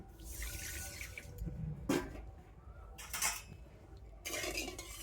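Water splashes into a metal cooking pan holding sugar to make a syrup. A few short pours and bursts of clatter come up close, with quiet pauses in between.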